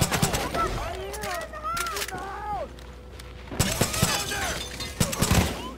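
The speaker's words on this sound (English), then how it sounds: "Shot that boy in his head." Gunfire in Far Cry 5 comes as sharp, loud shots and short rapid bursts in two clusters separated by a brief lull, with talking mixed in between the shots.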